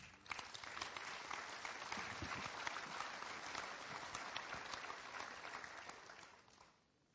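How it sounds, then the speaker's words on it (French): Dense, steady audience applause welcoming a speaker at a Loir-et-Cher territorial event, continuous clapping for roughly six seconds that fades out at the end. "Et merci d'accueillir et d'applaudir tout de suite son président, Alain Quilloux."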